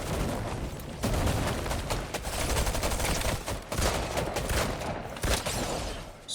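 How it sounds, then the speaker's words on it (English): Rapid bursts of video-game gunfire, loud and close, with dense automatic volleys and heavy booms crackling almost continuously, broken by brief gaps. "Who's shooting?"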